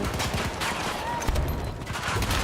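Gunfire in a shooter video game, rapid bursts of shots crackling close and loud over a busy background of battle noise.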